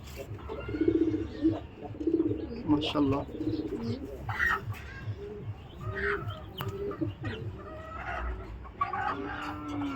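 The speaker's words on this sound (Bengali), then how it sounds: "রেজাল্ট করা কবুতর" Racing pigeons, including a hen that has raced with a club, coo and call close by in a loft, their soft throaty bursts repeating throughout alongside other birds and a person speaking.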